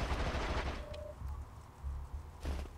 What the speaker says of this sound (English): There's people shooting at us.